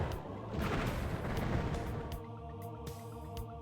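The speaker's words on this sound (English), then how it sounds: "We're still gonna make liberal use of these time bombs." Time bombs exploding in the game Heretic, a dense run of booming blasts and crashes rolling into one another, then a few sharper, sparser bangs trailing off.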